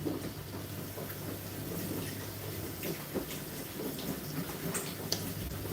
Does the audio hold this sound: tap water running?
yes